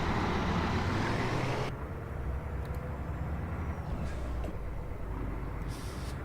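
A Freightliner FLD truck with an Eaton Fuller 18-speed gearbox in American Truck Simulator rumbles along with a steady low engine drone, the tone dropping briefly around a gear change, faint road noise underneath.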